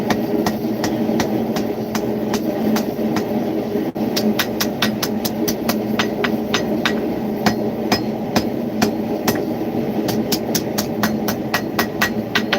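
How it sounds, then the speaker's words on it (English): Blacksmith forging metal on a cold day, hammer blows ringing out in a steady, fairly regular series of sharp metallic strikes over a constant low background hum, close and loud, with no talking. "Referring to the process, it's called forging."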